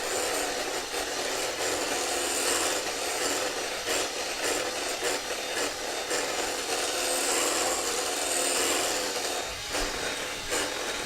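Eclair mixture being whisked by hand in a bowl, a steady close scraping and rubbing that continues without a break and without talk.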